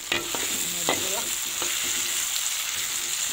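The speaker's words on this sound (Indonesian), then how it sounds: "saya lagi goreng dulu" Chicken and tempeh fry in hot oil in a pan with a steady close sizzle, while a utensil scrapes and clinks against the pan in a few quick stirs.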